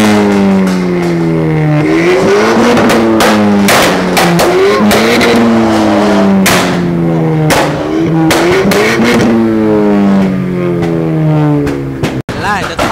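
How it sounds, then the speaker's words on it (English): Volkswagen Beetle with a straight-through exhaust revving hard at a car meet, loud repeated rises and falls in engine pitch close by, with people talking over it. "Straight through exhaust system."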